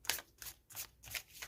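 Tarot cards from a Bumbleberry Hollows deck being shuffled, a quiet close series of about five quick papery riffling bursts in a steady rhythm.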